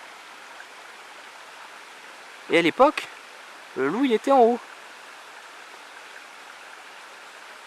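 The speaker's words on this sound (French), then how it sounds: "Ah non c'est juste une petite rivière mais franchement ça a tout son charme" A small river flows with a steady, soft rushing hiss throughout, while someone speaks in two short bursts over it.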